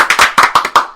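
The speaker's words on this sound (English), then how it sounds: "clap sync. Everybody clap." Several people clap in unison for a sync clap, giving about six sharp, loud claps in a quick, slightly uneven rhythm close up.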